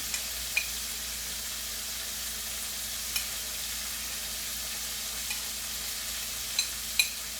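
Seasoned fish frying in a pan, giving a steady hissing sizzle that holds evenly throughout, with a few faint pops and crackles breaking through.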